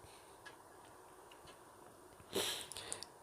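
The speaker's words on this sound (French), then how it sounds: "je renifle un peu" One short, breathy sniff from a player commentating on tank game replays, quiet and close, rising briefly out of a faint, steady background hum.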